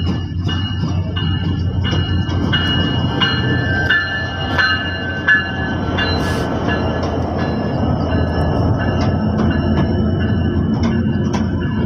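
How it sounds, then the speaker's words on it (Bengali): Silk City Express passenger train at Joydebpur railway station, hauled by an American 66-series locomotive numbered 6608, rumbles with a low, continuous engine drone and faint metallic ringing and clanks, loud and close throughout without talk. "আমাদের ট্রেনটি অল্প কিছুক্ষণের মধ্যেই জয়দেবপুর রেল স্টেশন ছেড়ে যাবে।"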